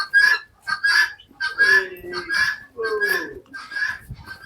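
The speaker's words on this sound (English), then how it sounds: "you see, guinea fowls, chickens, and turkeys." Guinea fowls, chickens and turkeys call repeatedly on a farm, a steady run of loud honking and clucking cries close by with short gaps between bursts.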